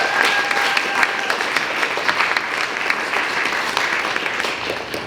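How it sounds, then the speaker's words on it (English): Sustained, dense applause from a crowd at a youth climate action holiday party, many hands clapping steadily and fairly loudly for the full stretch without letting up. "Can anyone who worked on our curriculum stand up, please, so we can applaud you guys?"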